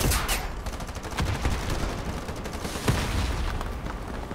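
Rapid gunfire in the first-person shooter Ironsight, repeated sharp shots in uneven bursts with booming impacts, loud and continuous throughout.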